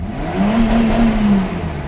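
A Mercedes 600SL engine revs up in park, climbing to a sustained high-pitched peak near redline, then falling back. The sound is loud and close, with no talk.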